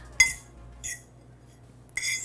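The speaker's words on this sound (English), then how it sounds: "I'm gonna mix this up with a fork" A fork clinks and scrapes against a bowl while mixing salt and black pepper, heard as three sharp, separate metallic taps in an otherwise quiet kitchen.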